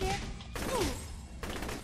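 Bursts of gunfire in the video game Saints Row The Third, two loud blasts separated by a short pause, with game sound effects and some talk in the background.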